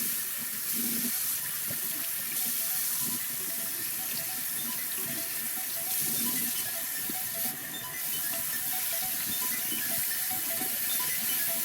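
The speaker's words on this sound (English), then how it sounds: "so the instructions were to rinse it under cool water. So I did that in my sink" Cool water runs steadily from a sink tap while an engine air filter is rinsed under it, a continuous splashing hiss with slight shifts as the filter moves.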